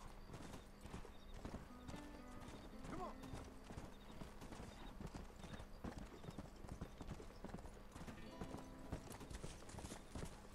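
Horse hooves in the video game Red Dead Redemption clip-clop in a brisk, steady gallop rhythm, moderately close, with a faint whinny and a voice speaking underneath.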